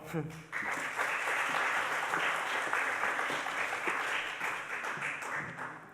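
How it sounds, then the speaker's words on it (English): Applause and clapping from an audience at a residential education event, a dense, steady wash of claps that swells after a brief pause and holds fairly loud for several seconds. "give a round of applause for Emily Sandoval"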